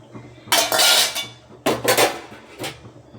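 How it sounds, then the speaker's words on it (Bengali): Metal spoon scraping and knocking inside a cooking pot as new potatoes are stirred for potato curry (alur dom): three loud bursts of clattering, scraping strokes with short pauses between, close up. "দেখুন এভাবে নেড়ে নেবেন।"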